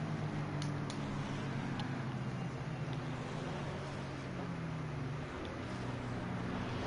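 Race car engines drone steadily and low on a formation lap at Monza in Assetto Corsa Competizione, a continuous, fairly distant hum with no talking.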